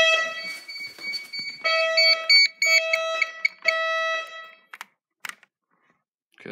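A detector in a house security system sounds a loud electronic alarm close by. The tone comes in several sustained blasts broken by short gaps, then ends in a few brief chirps before going quiet.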